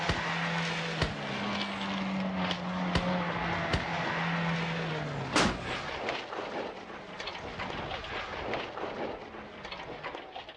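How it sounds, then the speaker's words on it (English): A car crash in a low-budget action movie scene: a steady engine tone gives way to a sharp impact burst midway, followed by rattling, scattered noise and a continuing rumble, loud and with no talk. "So apparently that car crash was not on purpose."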